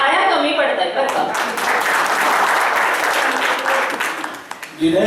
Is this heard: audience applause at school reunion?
yes